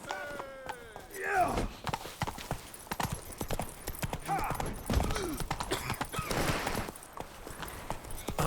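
Roach, the horse in The Witcher 3, gallops with rapid clip-clop hoofbeats throughout, close and steady, under scattered game voices, effects and a brief whinny.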